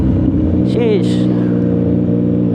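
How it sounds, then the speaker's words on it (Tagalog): A Yamaha MT-09 SP with the three-cylinder CP3 engine runs close by in city traffic with a steady, loud hum, over which a brief rising rev and a short voice are heard. "Iba talaga ito ng CP3. Kahit na 3-cylinder siya. Iba yung tunog niya kumpara dun sa 675 NK natin."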